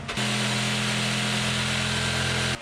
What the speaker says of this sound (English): I'm going to have to cut that notch off so that it can go